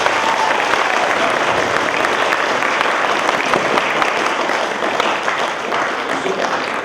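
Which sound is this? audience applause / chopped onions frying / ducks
audience applause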